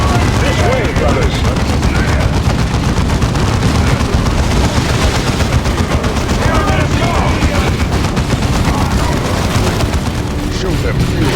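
Continuous dense gunfire and bursts of combat noise from a Warhammer 40,000: Dawn of War 2 battle, loud and unbroken throughout, with shouted voices of soldiers over the din.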